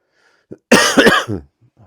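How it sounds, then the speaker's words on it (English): A single loud, close cough, a harsh burst followed by a short rasping tail, in an otherwise quiet room. "This cough is driving me crazy."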